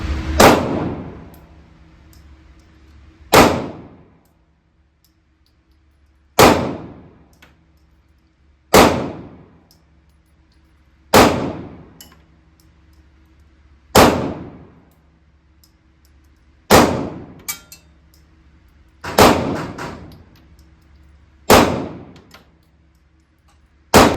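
Pistol shots from a Glock 43x or Taurus GX4 ring out about ten times at a slow, even pace, each sharp crack followed by a fading metallic ring from steel targets, loud and outdoors.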